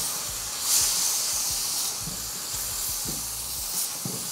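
Onions dropped into hot vegetable oil for a veggie stir fry, a loud, steady hiss with a sharp spit near the start and low thuds from the pan underneath; no talking.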